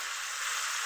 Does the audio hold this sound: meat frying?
yes